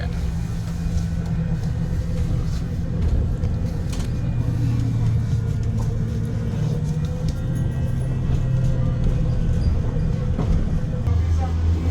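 Interior of a city bus riding through Hanoi, a steady low engine rumble with road noise and rattles throughout, with faint shifts in engine tone as it moves.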